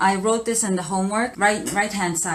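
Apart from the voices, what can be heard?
No everyday noises stand out.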